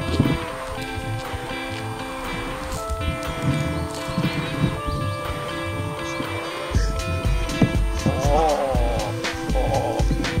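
Horse hooves clop steadily with occasional snorting and stirring amid background noise, the animal close by, no talking.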